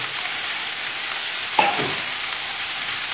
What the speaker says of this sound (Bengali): এবার আবার নাড়াচাড়া করছি।